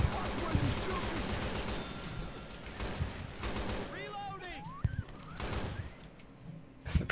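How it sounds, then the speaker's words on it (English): AK rifle fire in the zombie co-op shooter Left 4 Dead 2: bursts and rapid shots mixed into a busy, chaotic game soundscape, with other game noises among the shooting. "This is a pretty sweet AK."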